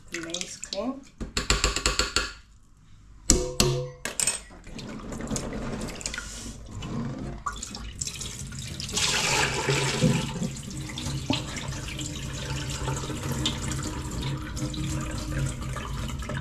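Maize being washed clean under running water in a sink, with a steady splashing stream and clattering, and a voice speaking over parts of it.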